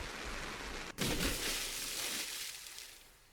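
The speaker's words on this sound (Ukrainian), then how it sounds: "Я чую приглушений звук бризків води." Steady rain and splashing water in the horror game Absent in the Rain. A dense, muffled hiss of rainfall briefly cuts out, then returns with a splash-like surge before slowly fading.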